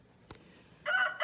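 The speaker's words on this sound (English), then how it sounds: "Let's take a quick break and just listen to the roosters crow." A rooster crows faintly in the distance after a brief knock, its harsh call rising loud near the end and cutting off abruptly.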